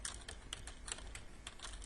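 Rapid, steady typing on a computer keyboard while entering a sales invoice in QuickBooks, a dense run of light clicky keystrokes close by throughout, alone without talk.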